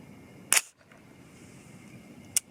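A .243 Winchester rifle fires reloaded cartridges with flat-base bullets outdoors, giving two sharp, distant-sounding reports about two seconds apart, each cracking briefly over a quiet background.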